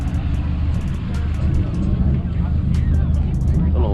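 A Volkswagen engine rumbles steadily and fairly loud at a car meet, with crowd chatter and short clicking noises over it.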